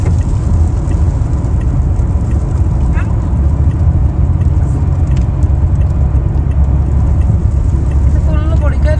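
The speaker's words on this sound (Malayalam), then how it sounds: "എവിടെയാണ് ഈ സൗണ്ട് കേൾക്കുന്നത്? കണ്ടോ പൊടിക്കകത്തൂടെ നമ്മളൊരു വണ്ടി കണ്ടുപിടിച്ചു." Car driving on a dusty road on the route from Riyadh to Abha, a loud steady engine and road rumble throughout.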